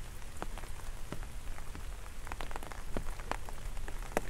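Rain falling on a surface during car camping on a hillside in India, a steady patter of close, distinct drops with a soft wash beneath, fairly quiet.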